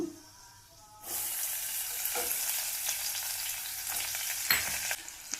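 Onions go into hot oil in a pan for a hotel-style beans fry, setting off a sudden loud, steady sizzle that carries on close up, broken by a few stirring scrapes.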